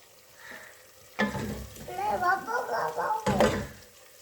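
Onion-tomato masala is scraped from a pan onto a plate, a sharp metallic knock followed by sizzling, scraping stirs and a second clang, with a voice talking softly underneath.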